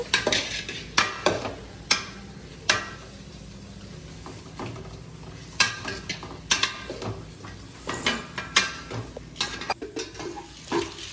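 A prawn biryani mixture is stirred in a pan with a metal spoon: irregular sharp clanks and scrapes against the pan over a soft background sizzle, close by and without voices.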